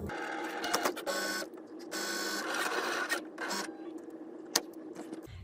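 A Cricut Maker cuts fabric for a fish appliqué, giving whirring, buzzing mechanical bursts as the carriage moves back and forth, with short pauses and a sharp click near the end, fairly quiet and close.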